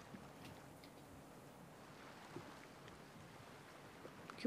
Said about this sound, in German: Aber ich höre schon das Wasser